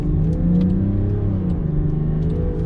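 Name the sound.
Land Rover Defender 130 turbo diesel accelerating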